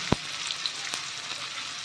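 Garlic paste, chopped onions and green chillies frying in a pan for a chickpea curry, a steady close sizzle with a couple of sharp clicks or pops, no talk.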